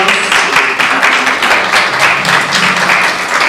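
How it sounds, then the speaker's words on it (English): A convocation audience at Tougaloo College gives a close, loud round of applause, a dense and steady rush of clapping that carries on evenly throughout. "Let's give our audience a round of applause"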